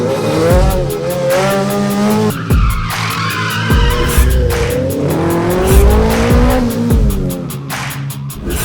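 Race cars at a national slalom series round at Robinson's Antipolo: engines revving hard between gear changes and tires squealing through tight turns, loud and continuous, one run blending into the next.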